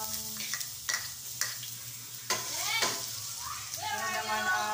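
Garlic fries in a pan at the start of cooking pancit miki, a close, steady sizzle punctuated by several clinks and scrapes of a utensil stirring against the pan, with no talk.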